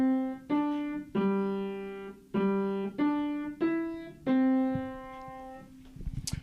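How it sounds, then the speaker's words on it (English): Recorded carillon bells playing a campus tune: about seven clear, resonant bell strikes in a slow melodic sequence, each ringing and decaying, ending with a brief faint rustle. "She recorded the bells on a carillon bell,"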